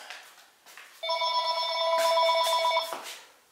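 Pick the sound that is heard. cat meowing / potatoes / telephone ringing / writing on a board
telephone ringing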